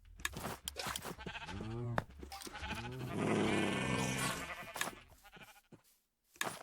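Sheep bleating in Minecraft, several loud wavering bleats in quick succession, then a long continuous rough bleat, followed by scattered short cries before a brief silence and a final sharp sound.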